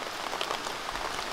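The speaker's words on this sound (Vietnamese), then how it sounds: "Tốt rồi, mưa rào rồi." Rain shower falling steadily on surfaces outdoors, a dense close hiss of many drops with no talking.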